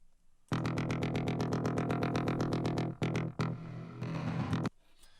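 A synthesizer wavetable tone plays a fast, even run of repeated bright pulses, then breaks into a few shorter stabs before stopping; no voices.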